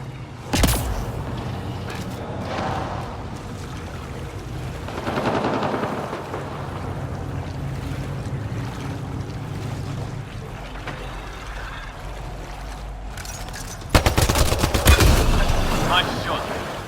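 Video game gunfire: a sharp shot cracks early, then a dense burst of rapid automatic fire erupts near the end, over a rumbling game soundscape with some voice activity.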